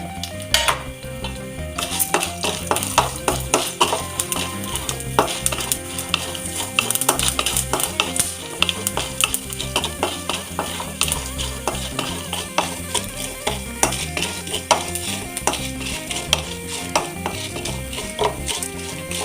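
Mustard seeds crackle and pop steadily in hot oil, a dense stream of sharp little bursts mixed with constant scraping and stirring in the pan, before urad dal is added for rava upma.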